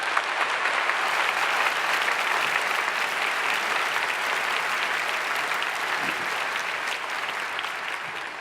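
A large church congregation at a special dawn prayer service claps warmly and continuously for the pastor, a thick, even wash of applause that sustains for over eight seconds without talk.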